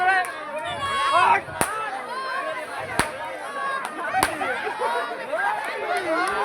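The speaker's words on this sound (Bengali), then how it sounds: "বম ফুটছে" Firecracker bombs bursting amid a chattering crowd, with a few sharp, loud cracks spaced a second or two apart under constant excited talk.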